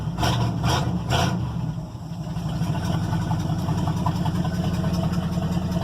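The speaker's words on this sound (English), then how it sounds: "Just idles nice" A 1997 Jeep Grand Cherokee engine idling steadily and smoothly up close, a constant low rumble with a few faint knocks at the start.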